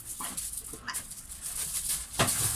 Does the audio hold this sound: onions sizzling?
no